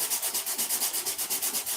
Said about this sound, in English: Keep sanding on this till it's ready to doctor up.